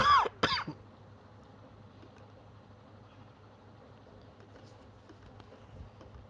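A couple of sharp, close coughs at the start, then near silence with only a faint background hum.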